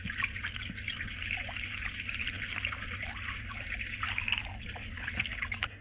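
Water poured into the tank of an air cooler, a continuous trickling and splashing stream, close and moderately quiet, with no talk.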